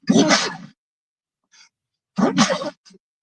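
Two short, sharp sneezes spaced a couple of seconds apart, close and fairly loud, with faint breathy sounds between them.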